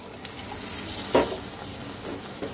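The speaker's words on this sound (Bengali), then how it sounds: "এখন আমি দিয়ে দেব ঝোলের জন্য জল।" Water is poured into a pan of sizzling goat liver curry, giving a brief loud splash and hiss over a steady close frying sizzle with light stirring.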